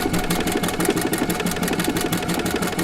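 Husqvarna Viking sewing machine running steadily with a circular attachment, a continuous close mechanical whir with fast regular needle pulses throughout.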